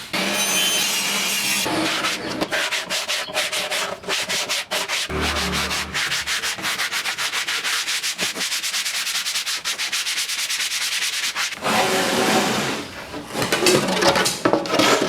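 A saw makes a first zero-clearance cut through wood on a DIY mitre sled, in a steady, rasping back-and-forth rhythm, loud and close, snagging and pausing briefly before the cutting resumes.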